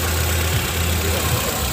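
The engine of a Lada Zhiguli 2106 car idles steadily, close and loud, with a low, even rumble and a slight uneven pulse throughout.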